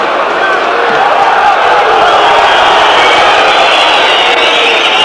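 A packed football stadium crowd roars steadily throughout, a dense, unbroken wall of noise at the Lyon versus Nottingham Forest UEFA Cup third-round match in 1995-96.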